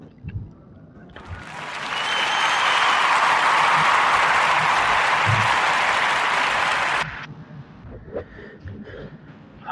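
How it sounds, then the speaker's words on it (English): A podcast audience's warm round of applause swells quickly, holds steady and loud for about five seconds, then cuts off abruptly, leaving faint background sounds. "let's give a warm narrative podcast round of applause for Christian Sims"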